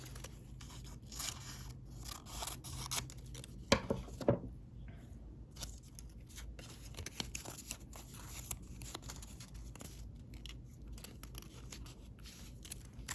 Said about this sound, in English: And take one of these strips. Trim it just a little bit. You can trim as you go.